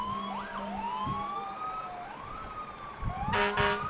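A fire truck siren wails in rising and falling sweeps as fire department vehicles roll past in a town parade, with a burst of loud horn blasts near the end.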